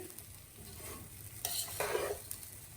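Rice for pulao fries in butter in a pot while a spoon stirs it, a soft steady sizzle with scraping strokes and a couple of louder stirring bursts, close and quiet.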